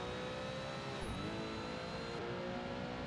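A race car in Project Gotham Racing 2 holds a constant high engine whine over a steady, moderately quiet drone of road and engine noise, with a brief pitch dip partway through.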